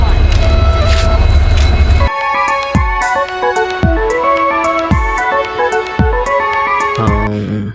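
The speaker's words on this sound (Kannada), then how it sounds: "ನಮ್ಮ ಟ್ರೈನ್ ಕೂಡ ಬರ್ತಿದೆ" A train pulls into Kukke railway station, a loud mechanical rumble giving way to a sustained multi-tone horn blast with repeated pulsing accents, ending with a deeper rumble.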